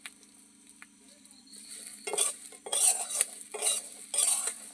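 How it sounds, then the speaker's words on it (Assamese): Green chillies fry briefly in a kadai for a pickle, with a spatula scraping and stirring against the metal in several bursts over a faint sizzle and a low steady hum. "আগে কেৰাহীখন পাতি জলকীয়াখিনি অকণমান ভাজি লওঁ।"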